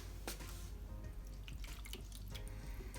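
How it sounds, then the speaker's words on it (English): Hot water poured into a dish, a faint, continuous running-water splash with small drips, heard alone and fairly quiet. "my remaining hot water here, I'd add this into an additional dish"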